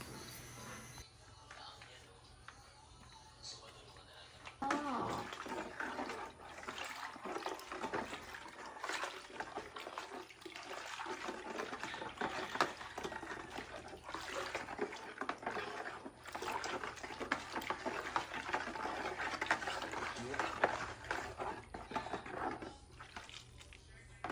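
Liquid sloshes and swirls steadily as a solution is stirred into water by hand for a DIY project, a continuous watery churning with occasional clinks against the container.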